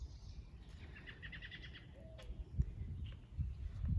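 A garden bird chirps in a short run of repeated notes on a sunny spring day, set over a steady breeze-like background rumble.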